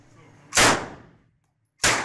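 Two sharp, loud gunshots from assault-rifle ammunition at a shooting range, each with a ringing decay, spaced over a second apart.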